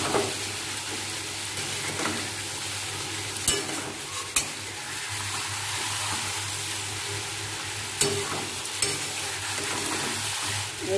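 A spatula stirs fish curry in a hot pan over a continuous sizzle, with a few sharp scrapes and knocks against the pan at irregular moments; close by and fairly loud, no talking.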